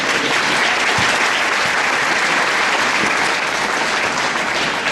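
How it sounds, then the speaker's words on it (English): An audience at the Brewster fall sports awards claps loudly and continuously, a thick sustained wash of applause filling the whole five seconds without breaks. "Yeah, clap that up"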